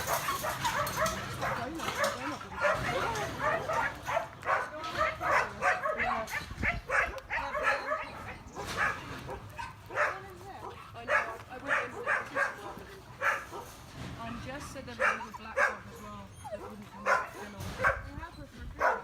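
Stray dogs at a rescue on Zante, Greece bark, yip and whimper in repeated bursts for nearly twenty seconds, with people talking throughout.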